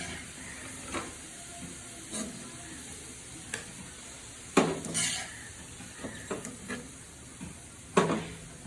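Chicken pieces, salted and rested, sizzle in hot oil in a home kitchen pan for a wedding-style roast, with a steady frying hiss broken by sharp clinks and scrapes of a utensil against the pot.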